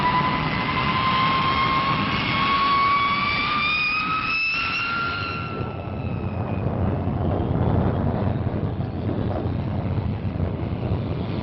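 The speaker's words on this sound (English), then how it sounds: "the Valiant, the new 4-jet bomber, a magnificent example of British engineering" A Vickers Valiant four-jet bomber passes, its jet engines giving a loud, sustained whine that rises in pitch and then fades into broad roaring rumble and wind noise.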